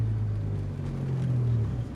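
Honda S2000 fitted with an Apex N1 exhaust accelerating, heard as a steady, droning low engine hum with a rising tone, recorded from inside the car with some wind rumble.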